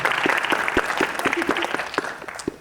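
A seated audience at a university paper competition claps for jury members, sharp individual hand claps standing out in a moderately loud, uneven burst with a voice briefly audible among them.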